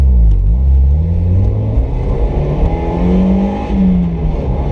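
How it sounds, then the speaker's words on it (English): A Mazda Miata engine revs hard at full throttle on twisty roads, a loud sustained rumbling drone with rising and falling pitch sweeps as it climbs through the revs, steady and close throughout. "Gotta love that full throttle right there."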